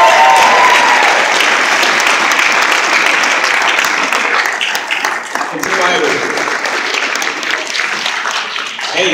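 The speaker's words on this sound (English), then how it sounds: "Can we please give them another round?" An audience at a Martin Luther King Day event gives a sustained round of loud, dense applause that fills the hall and tapers only slightly toward the end.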